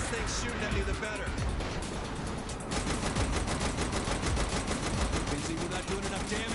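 Gunfire in the video game Saints Row: The Third Remastered: rapid, dense automatic bursts that keep going with only a brief lull, mixed with game effects and a voice talking underneath.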